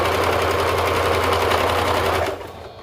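Sewing machine running a zigzag top stitch over elastic on ruffle shorts, a loud continuous rapid whir with a steady low motor drone that slows and fades just before the end.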